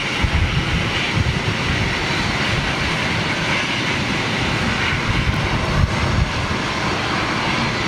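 Cathay Pacific Airbus A350-1000 jet departing on Rolls-Royce Trent engines, a steady, loud broadband roar that holds throughout without letup.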